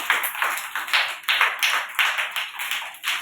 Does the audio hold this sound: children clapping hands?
yes